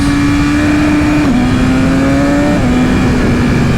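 A car engine holds a steady high rev against the rev limiter, with a constant loud tone that steps down slightly in pitch partway through and stays close throughout.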